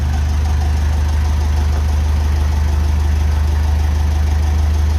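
A Ferguson FE 35 tractor running on TVO after its radiator was reconditioned, a steady loud idle with a deep continuous rumble and even mechanical beat, close up and alone.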